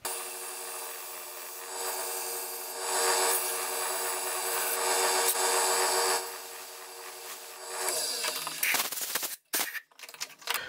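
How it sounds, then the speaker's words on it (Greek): Sandpaper rubbing against an apricot wood hollow form spinning on a wood lathe, a steady close abrasive hiss that swells and eases in passes, then breaks into short scraping bursts before falling quiet near the end. "Πάμε για τρίψιμο."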